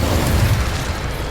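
A fire spell cast in Hogwarts Legacy, a loud, close burst of whooshing flame with a deep booming rumble that holds steady for about a second.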